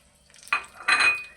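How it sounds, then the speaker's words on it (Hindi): Twelve chopped green chillies tip into a hot pan for ridge gourd sabzi, bringing two quick bursts of near, fairly loud sizzling and frying with light stirring. "ये मैं मिर्चें डाल रहा हूँ, 12 मिर्चें जो मैंने इस साइज़ की काटी है जैसे भिंडी काटते हैं"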